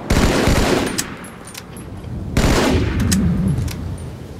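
Bursts of gunfire from the Halo 2 video game come in two loud clusters of rapid double shots, each trailing off into a ringing decay, with no talk.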